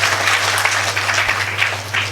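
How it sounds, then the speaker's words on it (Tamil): Audience applause at the closing ceremony of the Salem SMS summer classes: steady, dense clapping from a crowd that holds for about two seconds over a low, constant hall hum, with no one speaking. "பலத்த கரகோஷத்தை நீங்கள் எழுப்புமாறு கேட்டுக்கொள்கின்றேன்"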